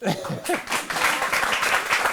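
A comedy show audience applauds, bursts of clapping following a short voiced sound at the start, the clapping loose and uneven through the rest.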